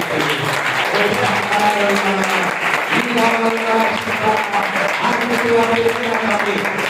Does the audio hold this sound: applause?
yes